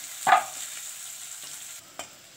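Onion frying with garlic and cumin for fried rice: a short scrape of stirring near the start, then a steady, soft sizzle with a second light clink toward the end.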